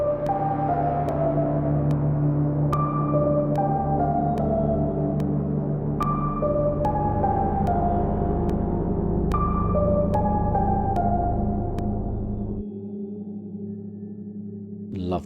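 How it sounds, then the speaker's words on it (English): OP-1 Field synthesizer notes ring out in slow sequence, each plucked tone blooming into a long, washy reverb tail before the sound thins out near the end. "Going back in with the mother reverb"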